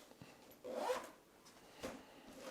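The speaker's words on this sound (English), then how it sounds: "another little zipper pocket." A small zipper pocket on an Elements Pro backpack is pulled, giving a quiet, close zip that rasps for about half a second, then a shorter second zip a moment later against a near-silent room.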